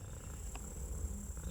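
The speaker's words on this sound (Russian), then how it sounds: "И мурчит, понимаете? Она мурчит." A domestic cat purrs softly, up close, a faint low continuous rumble with no talk over it.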